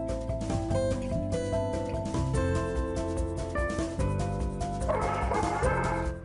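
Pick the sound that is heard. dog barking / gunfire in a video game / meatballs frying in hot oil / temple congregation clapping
dog barking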